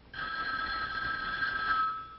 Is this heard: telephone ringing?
yes